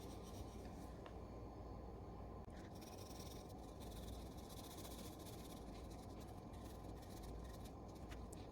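Soft, steady rubbing scratch of a coloring tool filling in a wing of an owl drawing with purple, faint and continuous with no voices.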